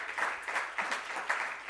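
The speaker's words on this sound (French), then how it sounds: "vous pouvez l'applaudir" Applause for a Socialist deputy from La Manche being introduced onto a panel at a French political conference, moderate and fairly distant, with rolling waves of clapping from an audience.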